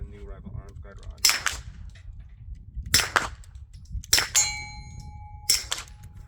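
147-grain rounds pressed one at a time into a Glock 45 magazine by hand, producing a few sharp metallic clicks and clangs spaced about a second apart, close and distinct over a low background hum.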